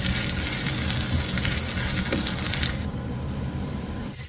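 Thin radish pancake batter fries in a pan over low heat, giving a steady close hiss and crackle of sizzling oil that tapers slightly at the very end, with no talking.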